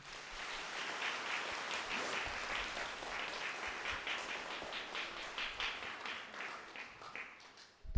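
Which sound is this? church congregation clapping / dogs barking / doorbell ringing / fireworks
church congregation clapping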